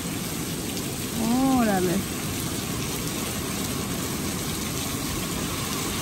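Steady rain falls on a road during a windy storm with debris blowing, a broad continuous hiss throughout, while someone briefly speaks a single word near the start.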